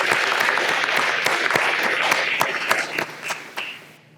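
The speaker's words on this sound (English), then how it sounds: "So please give yourselves a round of applause for taking that time." An audience at a welcoming session for a community planning process gives a round of applause. The dense clapping starts strong and thins out gradually into a few scattered claps.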